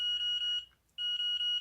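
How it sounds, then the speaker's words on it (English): A Turnigy Evolution radio transmitter emits steady high electronic beeps after binding a Mobula7 drone, a sustained tone broken by a short gap before resuming, close and clear. "things start beeping"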